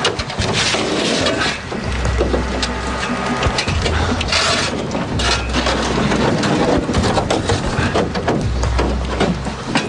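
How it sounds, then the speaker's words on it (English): A small skiff's hull bangs repeatedly into floating ice in freezing Alaskan water, giving dense, loud, irregular knocks, crunches and scraping close by, with a low rumble recurring underneath throughout and no talking. "The constant banging into the ice is taking its toll on the boat"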